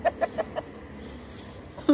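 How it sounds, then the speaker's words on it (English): A friendly chicken clucks up close: four short, evenly spaced clucks in quick succession, a pause of about a second, then one more louder cluck at the end. "This is the friendliest chicken."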